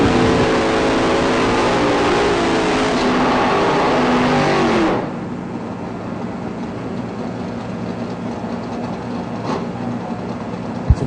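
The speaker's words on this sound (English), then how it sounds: "Todd in that pickup truck" A pickup truck roars down an IHRA drag strip, its engine loud and close for about five seconds before receding to a distant drone over background noise.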